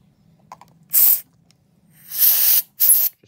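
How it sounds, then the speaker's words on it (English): Three loud bursts of compressed air hissing from a can into the gaps of an Xbox One Elite controller, close by, with short pauses between sprays. "A short-term solution for this is compressed air. You can spray it in the gaps,"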